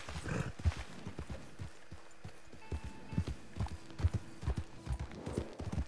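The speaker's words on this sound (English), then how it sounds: "Ooh, look at the horsey. Look at my horsey." Horse hooves in Red Dead Online thud in an uneven walking clip-clop, moderately close and fairly soft, over a quiet background without talk.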